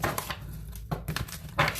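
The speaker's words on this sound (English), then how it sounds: "They need us to shuffle because these are not in the correct order." A deck of fairy oracle cards shuffled close up, producing dense, continuous rustling and flicking with a few sharper slaps, fairly loud and alone.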